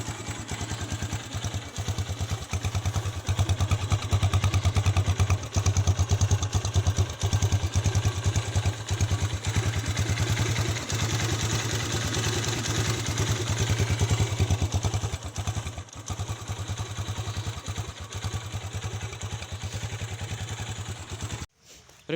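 A 2019 Geon Pantera 200 motorcycle engine idles steadily at close range, a low continuous rumble with a faint mechanical clatter, cutting off abruptly at the end.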